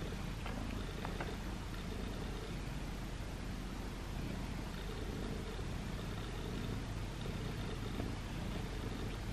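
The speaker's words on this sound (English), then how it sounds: "Listen to her purr." A cat purring close by, a low continuous rumbling drone that holds steady throughout against a soft hiss of background noise.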